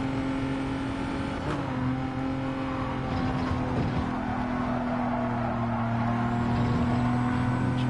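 A car engine in a racing video game revs steadily and climbs through its gears, a sustained, droning motor tone with gently shifting pitch, heard alone.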